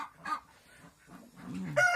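Several chickens cluck in short, uneven bursts close by, with a sharper squawk near the end; no talking.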